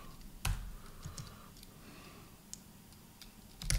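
Computer keyboard typing as a prompt is entered: sparse, light key clicks with irregular gaps, fairly close and quiet against a soft room background, with no voice.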